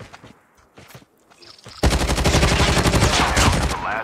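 Rapid automatic gunfire in the mobile shooter Call of Duty Mobile breaks out loud and sustained after quieter footsteps and movement, a dense burst of shots lasting about two seconds.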